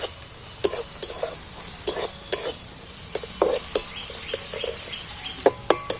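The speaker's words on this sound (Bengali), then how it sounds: "এইটাকে আমি একটু তেলের মধ্যে ভেজে নেব।" Ground poppy seed paste fries in oil in a pan, giving a steady sizzle broken by repeated sharp scraping and stirring knocks at an uneven rhythm, close and fairly loud, with no talking.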